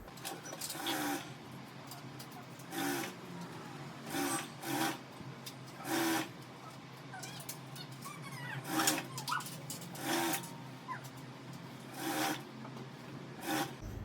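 A sewing machine stitches a blouse lining in short, repeated bursts of whirring, each about half a second, spaced one to two seconds apart, with quieter handling of fabric in between.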